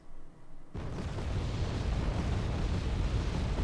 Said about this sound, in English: Oh, counter battery on the mortars.